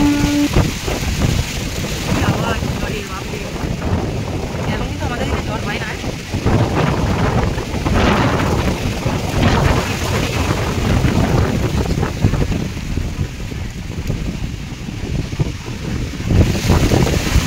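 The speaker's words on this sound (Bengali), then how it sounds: "ঝড় তো এসেছিলো, আবার এখন বৃষ্টিও এসে গেছে" Stormy monsoon weather in Mumbai, with strong wind roaring steadily and rain pouring throughout, a dense, continuous rushing wash close to the microphone with gusts rising and falling.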